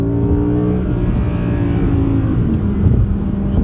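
An Audi R8 with a 620 km engine accelerates on the Green Hell track, its engine note droning loud and steady from inside the car as the pitch slowly shifts.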